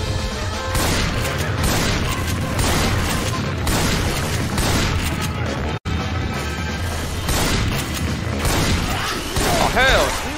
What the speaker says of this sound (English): Quick draw with the shotgun.